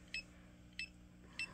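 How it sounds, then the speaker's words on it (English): A DSC Impassa alarm keypad buzzer sounds three short, evenly spaced beeps, roughly 0.6 seconds apart, faint over a low background hum. "Or you can just disable the buzzer so you won't hear any of the beeps."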